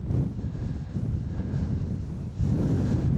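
Wind buffets the microphone outdoors by a river, a steady loud low rumble with gusting swells and no voices.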